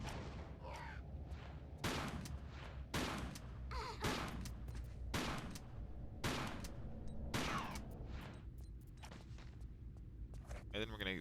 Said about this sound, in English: There's a harpy, so why don't we use our shotgun.